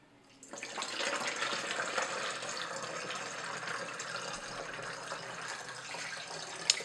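A steady, splashing stream of mixed Fomafix film developer solution being poured off, running continuously close by for several seconds with no voices.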